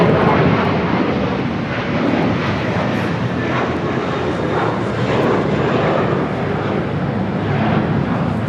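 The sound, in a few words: Atlas Air Boeing 747-400 freighter jet engines at LAX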